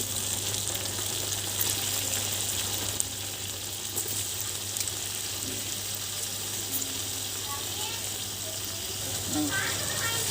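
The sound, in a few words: green chillies and tomatoes frying in a pan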